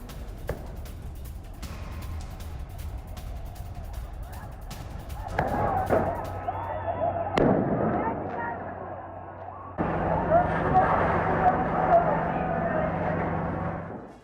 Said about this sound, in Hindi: प्रदर्शनकारियों ने आतिशबाजी की है पुलिस के ऊपर